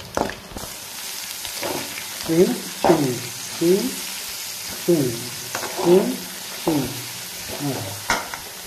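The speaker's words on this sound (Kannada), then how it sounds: "ಬೆಳ್ಳುಳ್ಳಿ ಫ್ರೈ ಆಗ್ತಾ ಉಂಟು" Garlic frying in a pan, with repeated bursts of stirring and scraping over a steady sizzle, close up and fairly loud; faint speech-like sounds in places.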